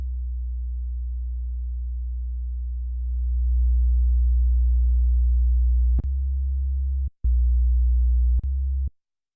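Low, pure sine tones from a Behringer synthesizer droning steadily, shifting pitch once and then cut off by a few abrupt clicks before stopping.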